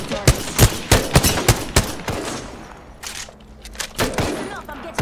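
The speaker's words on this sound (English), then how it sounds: "Reloading. Taking fire." Gunfire in the video game Apex Legends, with rapid close bursts of automatic shots in the first two seconds, then scattered single shots and game noise, and brief in-game voice lines.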